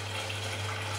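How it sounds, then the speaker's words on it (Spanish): Hot water pouring over a cooking pot, a brief, steady rushing splash over a low hum. "voy a poner agua caliente por encima"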